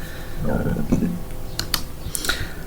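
Keys clatter on a computer keyboard in short bursts of sharp clicks, close and moderately loud, over a faint low murmur in the background.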